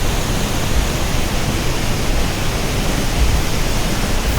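Small side waterfall at the Rhine Falls, water spilling down in a close, loud, unbroken hiss and roar that stays level throughout.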